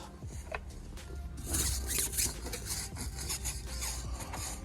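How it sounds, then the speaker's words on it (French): Stiff brush scrubbing dirty car tires, a steady rasping, rubbing scrub in repeated close strokes, louder in the middle stretch, with no talking. "je brosse les pneus pour enlever le plus de saleté possible"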